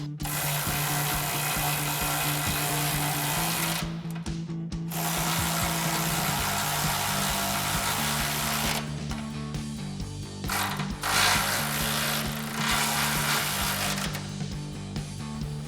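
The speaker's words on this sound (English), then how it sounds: "Now we'll go ahead and tighten down our main bracket bolts using our 19mm wrench and an 18mm socket on" A ratchet with an 18mm socket clicks in long runs, backed by a 19mm wrench, while bolts on a Ram 2500 front bumper bracket are tightened. The clicking is close and steady, with short pauses between bursts.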